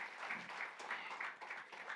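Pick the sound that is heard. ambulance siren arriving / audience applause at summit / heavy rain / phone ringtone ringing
audience applause at summit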